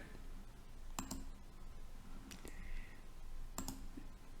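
Computer mouse clicks while working in Microsoft PowerPoint, three or four crisp, close clicks spaced about a second apart over a low room hiss.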